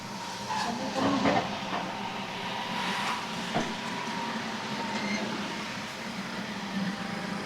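A train departs Hikkaduwa, Sri Lanka, with rumbling, a hissing release and low rolling noise as it pulls away, steady and moderately loud, with some faint voices.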